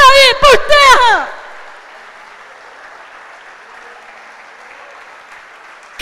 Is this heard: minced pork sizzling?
no